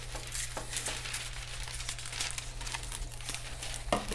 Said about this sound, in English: I'm going to cut off my excess here.